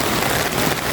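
Heavy rain pouring steadily onto surfaces in a subdivision, a loud, close, unbroken hiss with no gaps.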